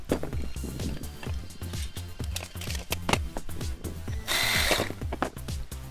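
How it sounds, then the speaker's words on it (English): A small Sawzall reciprocating saw cuts through grape vine in steady rapid strokes, loud and close, with a buzzing, rattling rhythm and a brief harsher burst near the end of the cut. "I'm using my little Sawzall."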